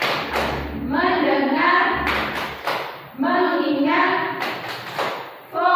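Elementary schoolchildren in a classroom chant together and clap the rhythmic 'tepuk fokus' focus routine, with loud group voices over soft patted hand thumps in two repeating phrases.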